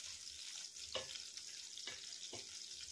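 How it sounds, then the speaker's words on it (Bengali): Four chopped green chillies frying in hot oil, a soft continuous sizzle broken by a few sharp stirring scrapes, close and fairly quiet with no voices. "তেলটা গরম হয়ে গেছে। এখন এর মধ্যে আমি দিয়ে দেব কাঁচা লঙ্কা কুচি।"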